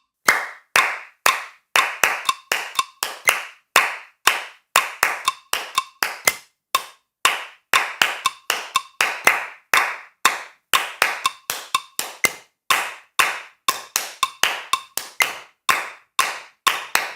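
Sharp wooden clicks tap out a steady, repeating syncopated clave pattern, loud and close, with no other instruments or voices.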